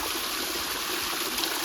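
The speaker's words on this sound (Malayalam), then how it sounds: "ഇതൊരു ചെറിയ വെള്ളച്ചാട്ടമാണ്." A small forest waterfall with low flow in the dry season sends out a steady, close rushing of water, unbroken throughout, with no talking.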